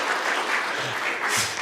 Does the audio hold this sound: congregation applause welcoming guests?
yes